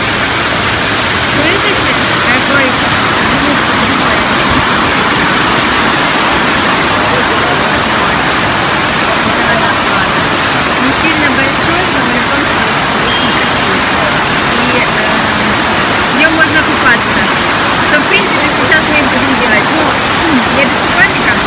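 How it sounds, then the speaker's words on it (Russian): Waterfall in the mountains of Sri Lanka roaring steadily and loud at close range, a dense unbroken rush of falling water throughout. "купались вот в этом водопаде"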